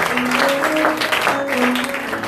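A church congregation applauds for the Lord: steady, dense clapping runs throughout, with sustained voices or tones audible beneath it.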